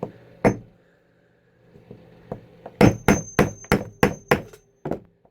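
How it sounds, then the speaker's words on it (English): Hammer striking a flaring tool to set a lift-the-dot fastener, with a few light taps followed by a quick series of about seven sharp, ringing metallic whacks close by. "holding the tool balanced so I can give it a whack"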